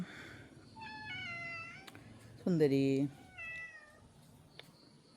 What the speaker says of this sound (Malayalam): My cat.